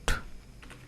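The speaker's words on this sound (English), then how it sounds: "press Windows plus R key from keyboard" A single sharp keypress on a computer keyboard, like a Windows key combination, followed by a softer second click, close and alone in a quiet room.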